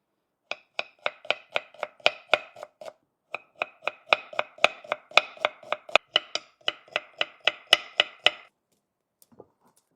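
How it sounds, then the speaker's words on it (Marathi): A knife chops onions on a board for a home-made chicken dish, about forty crisp, steady strokes in an even rhythm with one brief pause, close and clear with no talking. "आपण आता भाजीसाठी कांदे चिरून घेऊ।"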